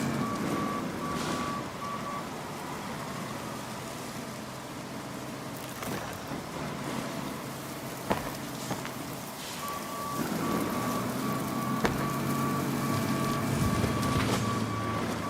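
A truck manoeuvres on the Autumn Collapse map in the video game Road Craft, its reversing alarm beeping in steady repeated pulses over a continuous engine rumble, with occasional clunks and no voices.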